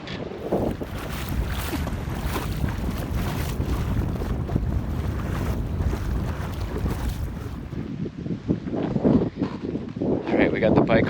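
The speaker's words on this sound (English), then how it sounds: "there is a bit of wind that comes through the isthmus" Wind gusts steadily across a sailboat at anchor in Cat Harbor on Catalina, a loud, continuous rushing buffet against the microphone with the boat's rigging and water faintly beneath.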